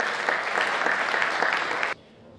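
Steady, lively clapping from a crowd at a Third Way party convention in Płock rolls on for about two seconds, then cuts off abruptly into quiet room tone.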